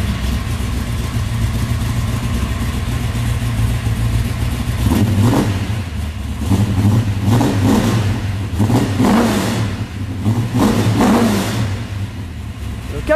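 Dodge Charger with a 440 V8, pumped once before starting, fires up and idles with a deep rumble, then gives several loud throttle blips and revs that swell and fall, with voices talking nearby throughout.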